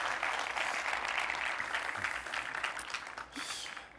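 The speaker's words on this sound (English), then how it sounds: "I wanted to ask you for a big round of applause for the marketing team and the design team at CARTO" Conference audience at a tech company's product roadmap event applauds the marketing and design teams, a soft, distant wash of steady clapping that thins out toward the end.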